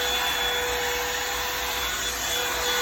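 A Revlon One-Step hot air brush hair dryer runs with a steady, close whirring blow of air, loud and unbroken throughout.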